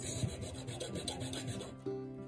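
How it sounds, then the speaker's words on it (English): A small hand saw cuts off a knot on a handmade wooden axe, giving a steady rasping stroke rhythm at close range with no talking. "And saw off that little knot."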